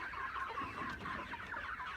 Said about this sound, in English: So all of these days, like almost 800 broilers in layers here